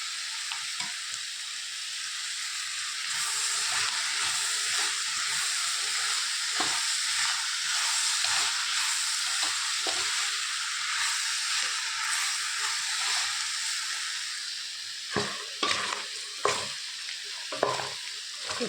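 Chopped capsicum fries in a pan for Mangalore-style pork chilli, a loud steady sizzle with repeated spatula stirs and scrapes that grow sharper and more frequent toward the end, with no talking.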